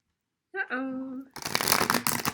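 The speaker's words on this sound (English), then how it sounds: "We'll do a couple shuffles for pile 3." Tarot cards from a Rider-Waite deck are shuffled by hand in a couple of loud, dense riffling bursts that follow a brief spoken exclamation.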